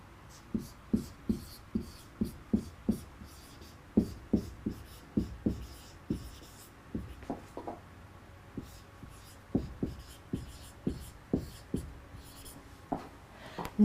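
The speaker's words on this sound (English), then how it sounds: "I'm writing it over here." A marker writes on a board in a classroom-style English lesson, making a series of quick squeaky strokes in short bursts, close and clear, with brief pauses between words and no talking over it.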